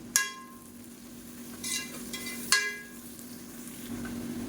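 Onions sautéing in oil over a medium flame with mint and coriander for mutton biryani, a soft steady sizzle punctuated by several sharp metallic clinks of a spoon against the pan.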